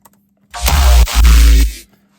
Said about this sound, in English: the first fart is